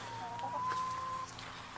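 Backyard chickens in a coop with nesting boxes and perches make faint, low clucking sounds that are quiet and somewhat distant over a soft background hum, with no talking.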